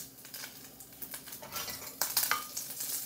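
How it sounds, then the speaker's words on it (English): Leftover jalapeno boudin warms in a skillet with a little olive oil, sizzling softly as a utensil scrapes and taps against the pan in short, irregular strokes close by. "I put a little olive oil in my skillet here. And I'm just warming up"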